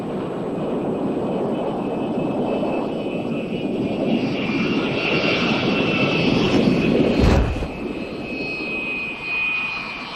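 A spy plane flying at over 100,000 feet passes overhead with a broad, steady jet roar that swells and then cuts away abruptly, leaving a quieter lingering rumble.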